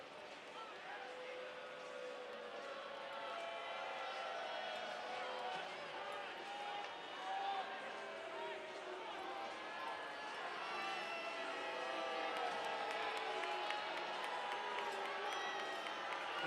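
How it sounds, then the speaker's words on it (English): Crowd at the Scope arena in Norfolk disapproving of an interference penalty during a Norfolk Admirals vs Greensboro Gargoyles hockey game, a sustained distant murmur of booing and voices under continuous play-by-play commentary. "You can hear the disapproval of the Scope crowd."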